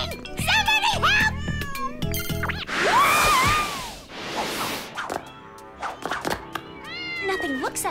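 Several cartoon cats from Totally Spies meow loudly and repeatedly up close, with drawn-out cries and a few thumps between them.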